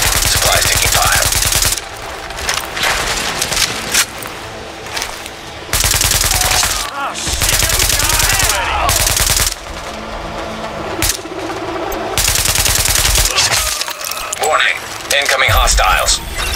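Sustained gunfire in The Division tears at supplies, with long bursts of dense, loud automatic shooting broken by brief pauses and a game voice speaking in between.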